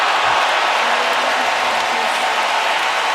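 A tennis crowd applauds loudly and steadily throughout, a dense wash of clapping from many hands with no break.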